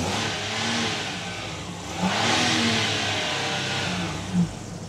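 A Citroën Berlingo van engine revs up twice in a steady rumble, each rise swelling briefly before settling back to a running idle, close by.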